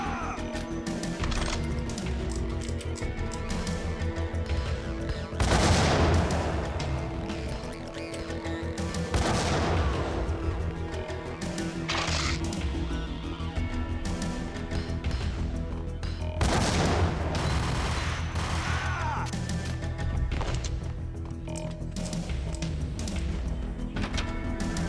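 In the game Max Payne, a firefight rages with heavy shotgun blasts and other gunfire, several loud booming bursts standing out at irregular intervals above a constant, busy layer of shooting and crashes.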